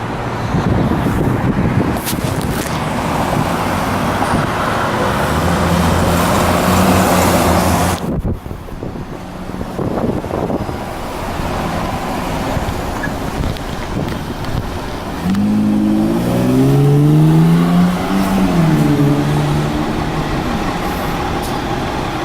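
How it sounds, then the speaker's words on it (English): An MTA Q6 city bus approaches along a street in southeast Queens, its engine droning and rising in pitch as it nears, with passing car traffic and gusts of wind noise across the microphone. "here's a Q6 bus"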